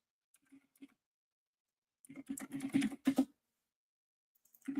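Computer keyboard typing in a quiet room: a few scattered clicks, then a dense burst of rapid keystrokes for about a second, another short flurry, and a few more taps at the end, close and moderately loud.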